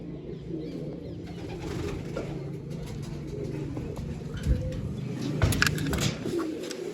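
Pigeons coo softly and repeatedly while sunning themselves, low murmuring calls layered over a steady background hum, with a couple of brief louder rustles or flutters toward the end.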